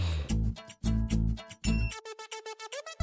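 A mobile phone rings with a melodic electronic ringtone, sounding in quick repeated tonal bursts that shift pitch, bright and close, with no voices.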